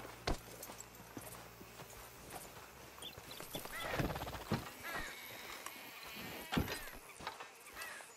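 Horse hooves clip-clop on the ground in Red Dead Redemption 2 as a rider pulls up to hitch, with a whinny and a few other animal sounds mixed in, close and moderately loud.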